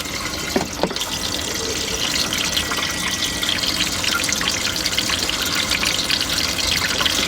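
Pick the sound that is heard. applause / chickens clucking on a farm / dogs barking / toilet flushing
toilet flushing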